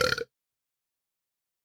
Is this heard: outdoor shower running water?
no